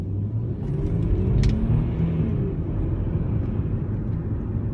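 An Audi A6 cruising on a highway, heard as a continuous low road and engine rumble from inside the car, steady throughout with no talk.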